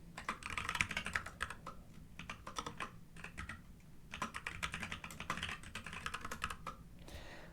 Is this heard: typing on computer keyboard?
yes